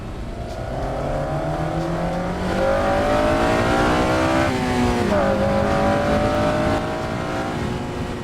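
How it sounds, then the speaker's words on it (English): An 8th-generation Honda Civic Si's naturally aspirated K20 engine revs high and buzzy, pitch climbing and dropping through several gear changes, loud and close with road noise. "It's a high revving, naturally aspirated, buzzy boy engine"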